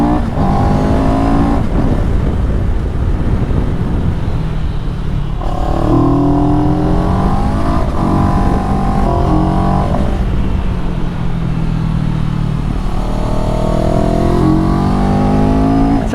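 CFMOTO 700CL-X motorcycle thrown through tight country bends, its engine note rising and falling continuously as it accelerates, backs off and revs again, loud and close with steady wind rush throughout.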